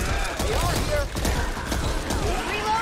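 Gunfire from a pistol in the zombie shooter Back 4 Blood, heard as a busy run of sharp shots and mechanical clatter that is close and loud, mixed with other game noise and faint voices.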